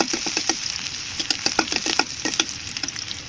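Pasta and paste frying in a small frying pan, a steady close sizzle broken by repeated sharp stirring scrapes and clicks, with no talking.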